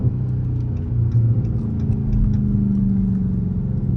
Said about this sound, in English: Whatever they did with the exhaust on this one, which like I said is probably a mid-muffler delete, sounds incredible